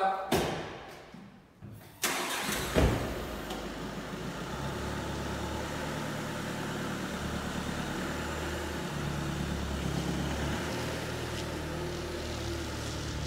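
An Audi A3 Sportback 1.6 TDI diesel with 110 hp and 89,000 km is cranked and fires up after a couple of seconds of quieter handling noise. It then settles into a steady, close diesel idle that runs evenly to the end.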